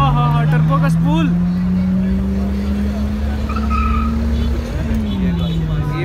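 A car engine drones with a rising and falling pitch as its turbo spools at a night track session in DHA, Pakistan. Loud talk runs over it throughout.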